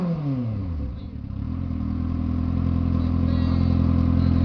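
A Kawasaki Z750 four-cylinder motorcycle revs briefly, its pitch sliding down, then holds a loud, steady, raspy growl close by. Faint background voices sit under the engine.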